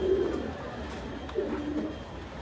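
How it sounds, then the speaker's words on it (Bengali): Top-quality fancy pigeons coo nearby in two low, rolling phrases separated by a short pause, over a faint background hum. "একদম টপ কোয়ালিটির কবুতর"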